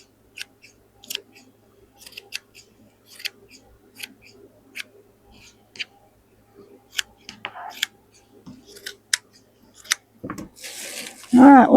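Scissors snip through scrap fabric in a run of sharp, separate clicks spaced across the clip, close and fairly loud, with a burst of rustling handling noise at the end.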